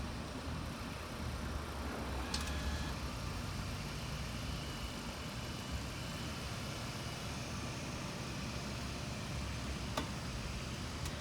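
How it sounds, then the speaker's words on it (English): A 2022 Hyundai Santa Fe runs at a steady low idle as it creeps forward under remote control, a constant quiet engine hum with a couple of faint ticks and no one talking. "Another press of the key fob here, you'll pull forward."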